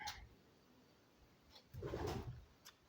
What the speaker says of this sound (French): on entend des pigeons